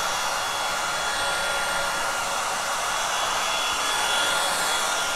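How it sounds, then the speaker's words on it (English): A heat gun blows continuously to dry paint on a small book table, a loud steady broadband rushing hiss with no breaks and no talking. "we're just going to blast this with my heat gun"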